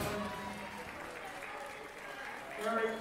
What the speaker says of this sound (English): Give Jack Hagan a nice round of applause